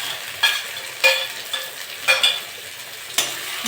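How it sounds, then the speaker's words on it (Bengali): Prawns frying with onions in a pan for a ridge gourd, potato and pumpkin curry: a low continuous sizzle broken by several sharp scraping stirs at uneven intervals, close and clear with no talking. "পেঁয়াজটা ভেজে নিয়েছি, চিংড়ি মাছটা দিয়ে দেবো।"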